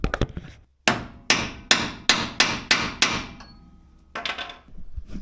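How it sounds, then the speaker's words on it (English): A hammer strikes a 3/4 inch steel piece set against a Jeep JK pitman arm to free a drag link. About eight sharp, loud metallic blows ring out close by at an uneven pace, each followed by a short ringing decay. "I'm hoping I can get my hammer right here."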